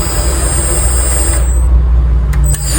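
Loud, steady whir of a brushless motor running on a HOT RC F-06A receiver setup, held close and continuous with a slight dip near the end.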